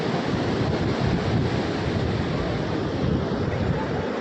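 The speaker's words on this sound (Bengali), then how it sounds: "আর এখানে সমুদ্র তার গর্জন চালিয়ে যাচ্ছে" Sea waves at Puri beach at night make a continuous roaring wash, loud and steady throughout, mixed with gusting wind.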